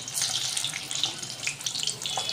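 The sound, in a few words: spinach paneer koftas being fried in oil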